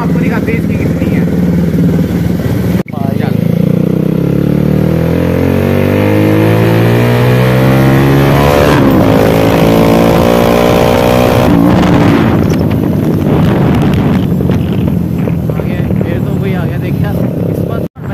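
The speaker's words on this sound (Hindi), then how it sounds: "आपको इस पल्सर की आवाज़ मुझे तो काफ़ी ज़्यादा अच्छी लगती है" A Bajaj Pulsar motorcycle engine revs loudly and close, climbing through several rising and falling accelerations with a throaty exhaust note, someone talking over parts of it.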